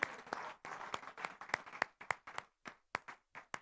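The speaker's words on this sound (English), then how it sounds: "Let's keep clapping." An audience claps in ragged, uneven bursts as finalists mount the stage at a prize-giving ceremony. Individual hand claps stand out clearly, thinning into sparser, scattered clapping toward the end.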